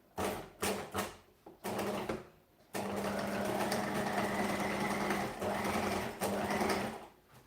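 A sewing machine stitches binding onto a fabric edge, running loud and close in a few short bursts before settling into one long steady whirring run.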